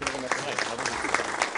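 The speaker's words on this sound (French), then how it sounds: "D'ailleurs, on peut les applaudir." Dense clapping from an audience fills the moment continuously, a crowd applauding with no pauses.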